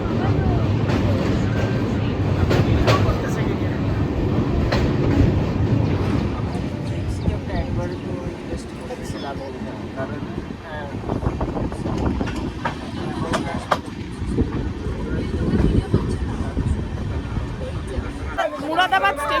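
A passenger train rumbles along the rails, heard from inside a carriage, with a steady low rolling drone, occasional clatter and people talking throughout.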